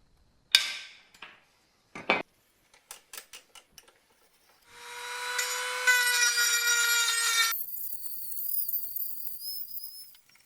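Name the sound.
cutting metal seat bracket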